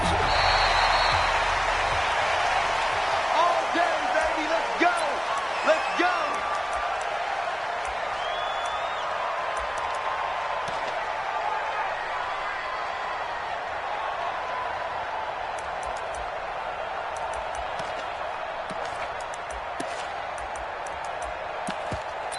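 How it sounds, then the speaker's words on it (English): A stadium crowd roars and cheers at an NFL game between the Tennessee Titans and the Cleveland Browns in a football video game. The noise is a loud, continuous wash that starts strong and holds through the clip. "This crowd is ready as their guys get set to match up between the Tennessee Titans and the Cleveland Browns."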